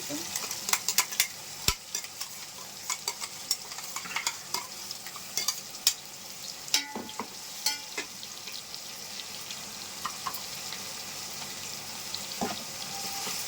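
Herb paste of mint, coriander, ginger, garlic and green chilli frying in oil for a mushroom biryani, a steady close sizzle broken by repeated sharp scrapes and clicks of a spoon stirring the pan.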